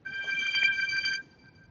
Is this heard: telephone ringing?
yes